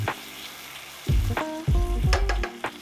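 Kasza grain porridge cooks in a pan, sizzling and bubbling close by in a stovetop breakfast scene, with a few louder pops and spatters in the second half. A faint steady hiss runs underneath.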